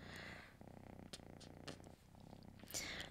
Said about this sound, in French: Ça ronronne sans cesse.